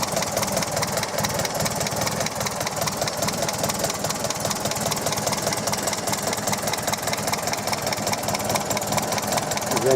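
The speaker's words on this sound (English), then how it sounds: "I'll open the engine lids for you to have a look under the engine bay with the engine running" The engine of a 1938 MG Midget TA roadster with twin SU carburettors idles with the bonnet open, a steady, loud, close mechanical clatter that runs on without a break and has no voices.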